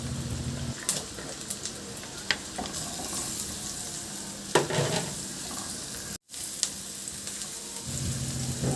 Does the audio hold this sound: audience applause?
no